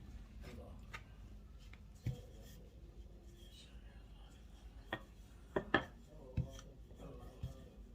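Flatbread dough being rolled out hot with a rolling pin, heard as soft repeated rubbing and knocking against a board, with sharper taps near the end under quiet background noise.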